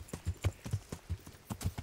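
Horse hooves clip-clop in the medieval video game Kingdom Come Deliverance, a close, steady gait of sharp alternating thuds, about eight or nine beats at a brisk walking rhythm with no talk over them.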